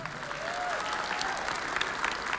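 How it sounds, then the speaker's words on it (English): Applause from a pageant audience in Albuquerque, a dense continuous clatter of many hands. A faint whistle-like tone rises briefly over it. "Give him a round of applause"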